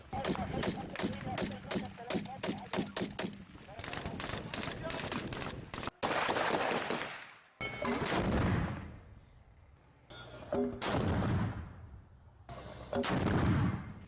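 Heavy booming blasts of Syrian army artillery fire, a rapid run of sharp reports followed by several loud, rumbling explosions with brief gaps between them.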